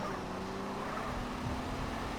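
Motorcycle engine in the GTA San Andreas video game, a steady droning hum with faint tonal whine that holds evenly for a couple of seconds.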